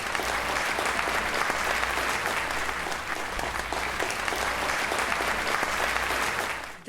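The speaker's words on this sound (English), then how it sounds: "Let's give him one more huge round of applause." Sustained audience applause fills a chairman's award ceremony at a school, a dense, steady wash of many hands clapping at even loudness throughout, with no talking over it.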